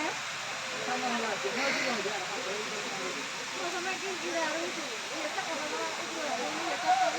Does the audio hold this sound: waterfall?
yes